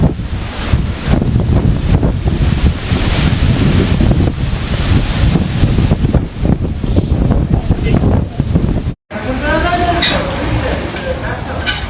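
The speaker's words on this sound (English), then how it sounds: "gusts reaching over 70 miles per hour tore through the valley" Strong, roaring wind of a dust storm in southern Nevada, with gusts over 70 miles per hour, buffets the microphone in continuous heavy gusts, with voices faintly audible beneath; a brief dropout near the end before the blustery rush resumes.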